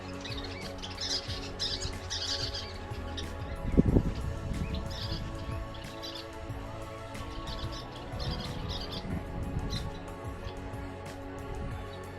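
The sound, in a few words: warblers and kingbirds singing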